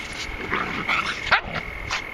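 Pet dogs give a few short yips and whimpering barks indoors, close and moderately loud, with a steady high electronic whine behind them.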